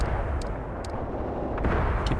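Artillery and gunfire shell a position in the wargame Graviteam Tactics: a continuous rumbling barrage with scattered sharp cracks and thuds, heavy and unbroken from start to end.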